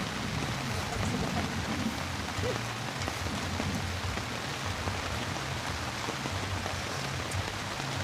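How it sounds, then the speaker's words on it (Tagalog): Steady rain falls at a camping cabin resort, a continuous even wash of drops on surfaces with low rumbling underneath, persisting for the whole stretch with no voices. "Pero medyo minana yung ulan."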